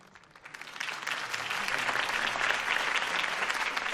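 Crowd applause and cheering from a campaign rally in the Batman Telltale video game rises after a political speech, building within the first half second into a loud, steady, dense roar of clapping that holds to the end.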